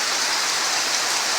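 Steady rain falling, a dense, even hiss of drops that holds constant throughout with no voices.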